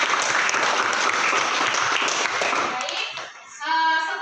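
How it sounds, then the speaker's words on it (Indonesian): Students in a classroom give a round of applause, a brisk dense clatter of clapping that thins out after about three seconds before a voice begins speaking. "Tepuk tangan untuk semua dulu."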